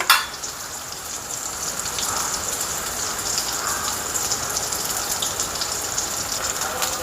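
Corn vadas (makka garelu) frying in hot oil give off a steady, dense sizzle that runs unbroken throughout, after a short clatter at the start.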